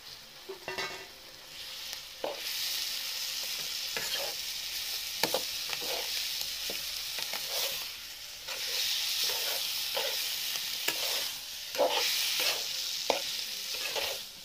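Freshwater clams (khube) frying in a pan, a steady close sizzle broken by repeated scraping stirs every second or so, with no talking over it.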